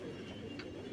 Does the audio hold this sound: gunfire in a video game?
no